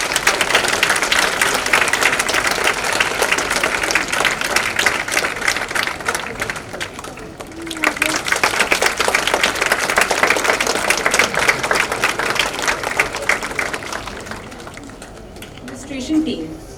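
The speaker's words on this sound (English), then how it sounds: "Can I have a huge round of applause for them" School audience applauding the prefect body on stage at a La Martiniere College event, a long, dense burst of clapping that dips briefly midway and then fades out, with voices underneath.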